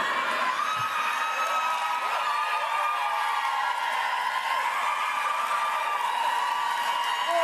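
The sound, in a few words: crowd applauding at Hillary Clinton event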